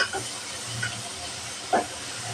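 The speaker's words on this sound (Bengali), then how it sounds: "পেঁয়াজটা ভালোভাবে ভেজে নেব" Chopped onions frying in a pan with a little salt, giving a steady soft sizzling hiss throughout, with a couple of brief scraping clicks near the start and a sharper clatter toward the end.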